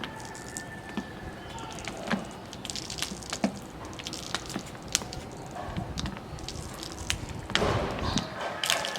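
Soapy water poured over a split air conditioner unit to check for leaks, with scattered drips, splashes and soft knocks running throughout at a close, fairly quiet level, with no talking.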